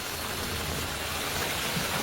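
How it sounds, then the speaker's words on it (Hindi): Steady monsoon rain pours over Delhi NCR, a dense unbroken hiss of falling water, loud and constant throughout with no voices over it. "पिछले 2 दिन से लगातार दिल्ली एनसीआर के अलग अलग इलाकों में बारिश हो रही है।"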